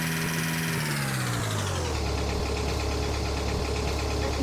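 A car engine from a prison-escape video game, a loud steady drone whose pitch drops as it settles into a low rumbling idle, alone without speech.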